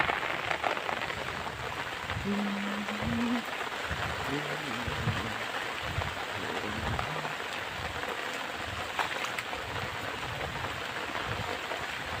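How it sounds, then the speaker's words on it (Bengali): Steady heavy rain hisses across the whole clip at a village Eidgah field, with a voice speaking intermittently over the downpour. "প্রচুর বৃষ্টি আছে"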